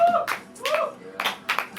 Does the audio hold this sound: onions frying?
no